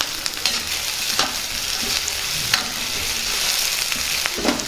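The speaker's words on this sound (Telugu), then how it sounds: "వీటిని బాగా వేగనిద్దాం." Onions, green chilies, peas and curry leaves fry in a pan for beetroot rice, giving a steady close sizzle with occasional spatula scrapes and stirring knocks, loud and without talk.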